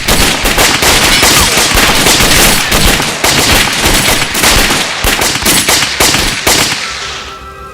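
In a film scene, rapid bursts of gunfire crackle loud and close for several seconds in dense volleys, then fade at the end.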